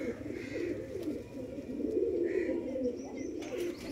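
Soft, low pigeon cooing runs steadily throughout, murmuring and continuous with faint chirps above, fairly close and moderate in level.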